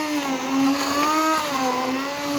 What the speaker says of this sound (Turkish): blenderdan geçirme aşamasına geçiyorum